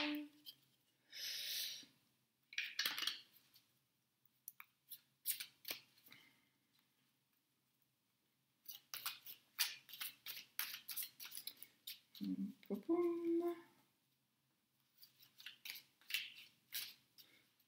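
Oracle cards are shuffled by hand in short, quiet papery bursts of riffling and sliding, separated by silent pauses, soft and close with a faint murmur in between.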